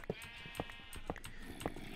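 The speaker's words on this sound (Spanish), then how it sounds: "O si es una oveja." Repeated sheep bleats from a blocky Minecraft sheep, four short calls spaced roughly half a second apart over soft game ambience, moderately loud and with no one talking.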